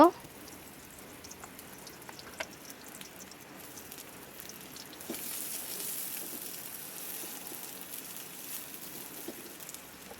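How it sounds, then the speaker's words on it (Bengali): Greens sizzle in a pan with garlic, onion and green chili, giving a steady, crackling hiss with scattered pops that gets slightly louder partway through, with no voices. "আমি এখন শাক ভেজে নেব। রসুন, পেঁয়াজ, কাঁচামরিচ দিয়ে দিব।"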